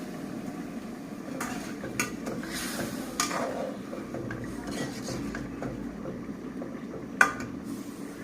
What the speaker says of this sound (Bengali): কচুরমুখী কষানোর জন্য দিয়ে দিলাম।